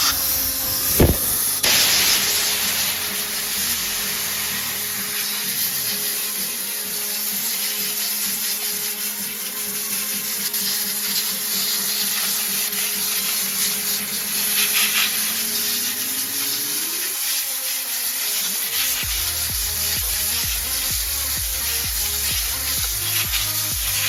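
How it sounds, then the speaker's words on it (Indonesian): A steady compressed-air blast from an air gun hisses for over twenty seconds while cleaning the rear brake backing plate of a Mitsubishi Xpander, with a low rumbling whir that rises and then cuts out near the end. "kita semprot menggunakan air gun"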